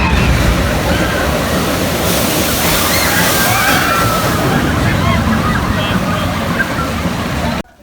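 Water roars and splashes continuously at the Snake River Falls water ride at Cedar Point, a loud, dense wash of spray and surf-like rushing that holds steady until it cuts off abruptly at the end.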